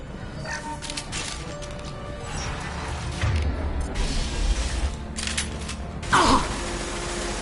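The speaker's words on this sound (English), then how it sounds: "Time to get those damn shutters open." Heavy metal shutters grinding open in the sci-fi shooter Mass Effect 2, a steady mechanical creaking and ratcheting over game background noise, with a sharp loud clank near the end.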